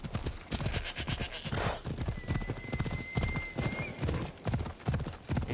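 Horse hooves clip-clop steadily through a sword-and-sandals open-world game, repeated rhythmic knocks close and prominent over a busy backdrop of game sound, with a faint neigh-like tone midway.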